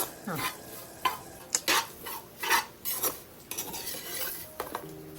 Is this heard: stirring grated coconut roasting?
yes